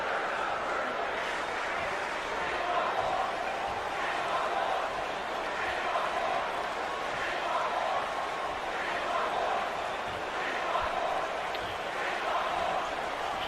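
Crowd noise at a wrestling arena in the WWE 2K19 video game, a steady broad roar of cheering that runs the whole time beneath an announcer's commentary.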